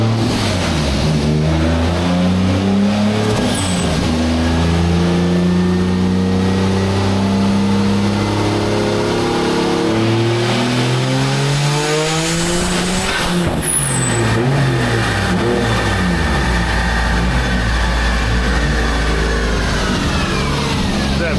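A tuned car engine revs hard on a chassis dyno, a loud sustained rising drone that suddenly cuts out as it hits boost cut, then climbs and drones again, with no talk over it.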